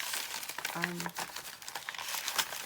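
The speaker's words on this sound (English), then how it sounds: "If you don't like the sound of crinkly paper, you will not like this video." Crinkly torn paper pages of a handmade junk journal rustle and crackle continuously as they are flipped and handled up close, with a person's voice briefly audible underneath.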